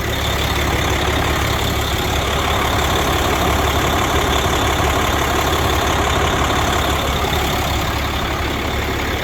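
A tractor engine idles with its PTO left engaged at a farm auction, giving a steady, loud, rough mechanical drone that never changes, with no talking.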